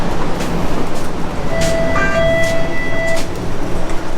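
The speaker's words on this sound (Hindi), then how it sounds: "हम लोग स्ट्रीट कार के अंदर आ गए हैं, जो कि वो जो ट्रेन भागती है ना सड़कों पे" Toronto streetcar rolling through city streets, heard from inside the car as a steady loud rumble with a brief high electric whine rising and holding in the middle.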